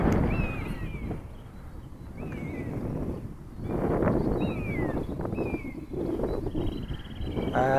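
Strong wind gusts outdoors buffet the microphone with a rough, rumbling roar that swells and eases over several seconds, with faint thin whistling tones above it and no voices.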